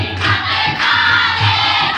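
Crowd at the Baba Surdas temple in Tilpat Dham, Faridabad, a loud, close, steady wash of many voices with surging cheers and shouts rising in waves.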